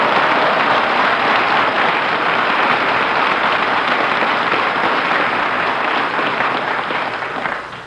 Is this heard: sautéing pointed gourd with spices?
no